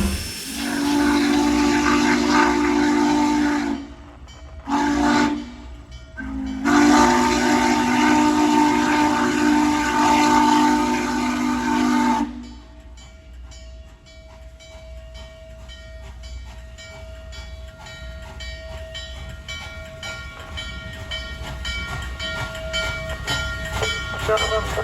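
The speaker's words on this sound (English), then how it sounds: "Train number 1 to Susquehanna is now arriving on track number 2" A train pulls into a station with a steady mechanical rumble and hissing steam, broken by short gaps. After that come quieter clattering rail sounds and a sustained whistle-like tone that builds slowly. No one speaks.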